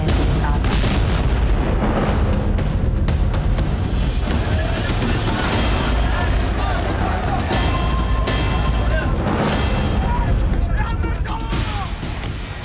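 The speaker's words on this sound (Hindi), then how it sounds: "गाजा पट्टी के पट्टी में एक जोरदार धमाका हुआ" News footage from the Gaza Strip carries a loud, chaotic stretch of heavy booms and crackling bursts resembling artillery and gunfire, continuous and close, with voices shouting amid the din.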